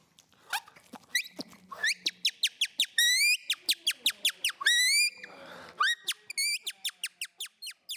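Rapid series of shrill, squeaky whistles made by blowing through a small piece of plastic from a cracker bag, short bursts in quick rhythm with a few longer wavering tones, close and piercing.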